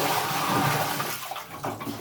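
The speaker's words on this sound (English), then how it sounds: "Pour that water back in." Water poured from a bucket back down into a dug hole while digging a bunker, a broad continuous splashing wash that slackens briefly near the end, up close with no talk.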